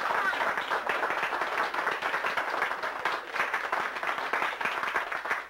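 Steady audience applause at a linking rings magic routine, many hands clapping densely and continuously at a fairly loud level throughout.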